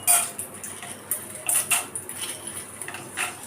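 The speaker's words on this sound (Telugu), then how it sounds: "ఇప్పుడు ఇందులోకి శనగపప్పు వేసుకుని వేయించుకోవాలి." Chana dal tossed into a pan of oil for a Telugu poha pulihora, giving a close run of light rattling clicks and scrapes with a few sharper taps, no talking.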